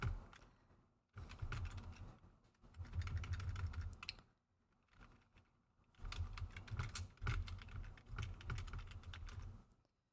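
Bursts of typing on a computer keyboard, with quick clustered keystrokes in several runs separated by short pauses, close and fairly quiet, with no talk.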